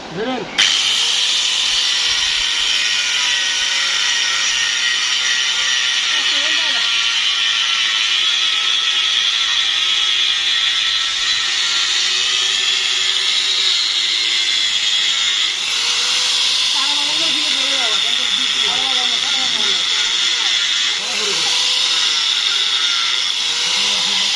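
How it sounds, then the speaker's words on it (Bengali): A handheld grinding machine whirs continuously and loudly while trimming a bull's hooves, its pitch wavering as it bites into the hoof, with a voice talking underneath throughout. "আমি গ্যান্ডিং মেশিন দিয়ে শুরু করছি"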